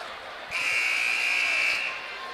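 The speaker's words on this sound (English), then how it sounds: "Buzzer sounds for the timeout." At a boys' high school championship basketball game in a gym, the timeout buzzer blares for over a second, loud and steady over crowd murmur and an announcer's voice.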